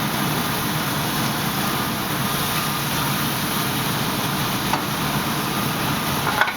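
Diced garlic sizzling in olive oil in a pan, a steady, continuous hiss and crackle at an even level with no talk.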